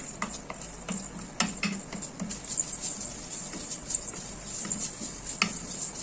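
Vermicelli being stirred while it browns in a pan, with repeated light scraping and tapping clicks of a utensil against the pan over a steady faint sizzle, close and moderately quiet.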